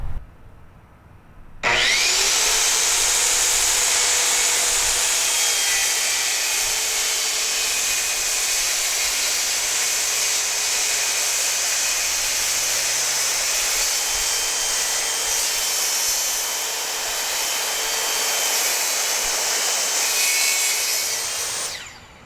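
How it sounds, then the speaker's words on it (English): A circular saw rips a straight cut through a clamped MDF board, a loud, steady whining roar that starts abruptly and holds for about twenty seconds with no letup. "it's time to cut our MDF"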